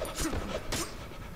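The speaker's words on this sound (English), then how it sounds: "that breathing is so annoying" Heavy, rapid panting breaths in the Cry of Fear horror game, rhythmic and doglike, repeating at moderate volume over a short stretch.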